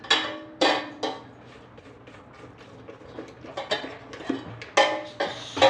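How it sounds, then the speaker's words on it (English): Scraping down the sides of a mixing bowl of Queen of Sheba cake batter with a spatula: a series of short, close scraping and clinking strokes at an irregular rhythm, no talking. "Take it off and scrape down those sides."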